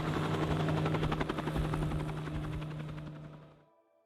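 Military Bell 47 Sioux helicopter flying at an air show, its rotor thudding in a steady fast chop over engine drone, loud and close throughout before cutting off abruptly near the end.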